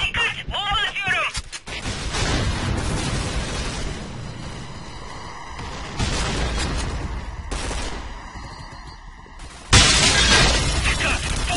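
Combat noise in the Point Blank shooter game, with dense bursts of gunfire and blasts, a loud sharp explosion near the end, and voices over the din.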